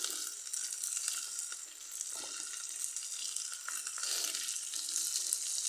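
Onion and green chili frying in a pan for anchovy curry, a fairly faint, steady hiss of sizzling oil with a few light stirring sounds.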